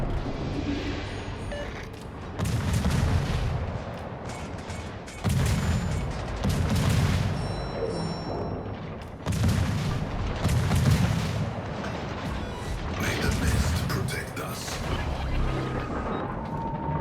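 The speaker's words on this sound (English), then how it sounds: "Smoke up, and we just start shooting." Ship guns firing in a naval video game, heavy booming salvos repeating every few seconds over a continuous rumble of battle noise, loud and dense throughout.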